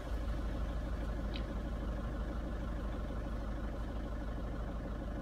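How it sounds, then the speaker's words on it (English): A running vehicle engine with a turbo actuator position sensor fault, heard after start-up, holds a steady, continuous low rumble at moderate level with no talk over it. "Let's start the engine."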